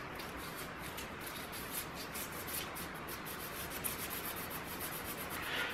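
Hand drill grinding through a hole in wood for an LED lantern post, a soft continuous scraping rub with a rhythmic rasping texture, close and fairly quiet, no talk.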